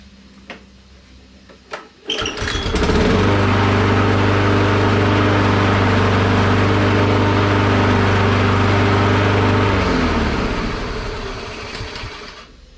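A Toro Recycler self-propelled lawn mower, just repaired with a drive cable adjustment, starts after a few clicks and runs close by with a loud steady engine drone and strong low hum for several seconds before winding down and fading.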